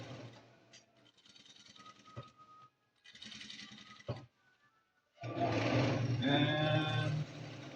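A sewing machine stitches through a thick denim jeans hem in several separate bursts, with short pauses between them, before running loud and steady through the final stretch.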